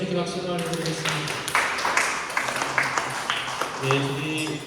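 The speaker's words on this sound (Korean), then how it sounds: "박수를 올려드리겠습니다" Applause at a church high school youth service: a congregation clapping steadily under a speaker's voice, with some musical tones in the background, at moderate volume.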